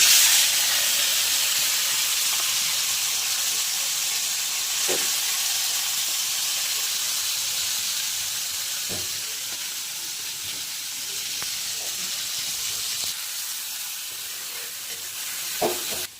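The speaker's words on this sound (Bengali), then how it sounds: "একটু ভালো করে ভাজবো, না ভাজলে ভালো লাগে না।" Something frying in a pan with spices such as dried chilli powder, cumin and coriander, giving a steady broad sizzle and hiss throughout with faint clinks of stirring.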